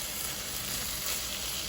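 Veggie pasta sauce with vinegar and Worcestershire sizzling in a pan, a soft continuous hiss of frying at low volume with no talk.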